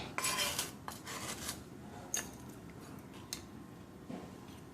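Dry nutmeg being chopped with a knife on a board, a burst of quick close taps at first, then sparse single knocks spaced about a second apart, quiet with no talking.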